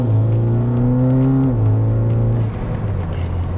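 A tuned BMW G20 330e with its B48B20A engine, Stage 2 remap, 200-cell downpipe and DCE catback exhaust accelerates hard, a loud close droning engine note climbing through the gears with a shift dip midway and no talk over it.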